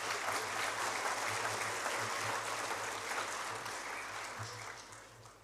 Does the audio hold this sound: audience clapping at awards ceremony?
yes